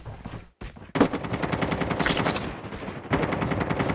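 Rapid automatic gunfire in the shooter game Call of Duty, a few short bursts then a sustained loud, close stream of shots with a brief pause near the end, no talking over it.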